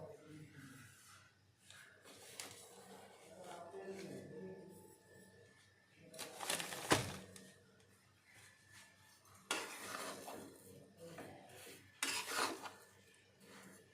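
Panjeeri being stirred in a pan as sugar is added a little at a time, with scraping, rasping spoon strokes and metal clinks in intermittent bursts while someone talks in between.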